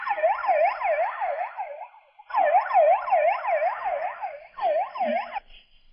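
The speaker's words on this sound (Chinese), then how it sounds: "全市各处的警车、120救护车、消防官兵都在往一个地方赶" Police car and ambulance sirens wail loudly in the city of Wuhan, China. Rising and falling tones come in three close bursts separated by short pauses, with no other sound.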